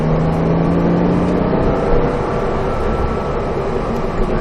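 A Porsche Cayman rear-engine sports car pulls away on a race track, with a loud sustained engine drone and wind roar close up, its pitch climbing gradually as the throttle opens.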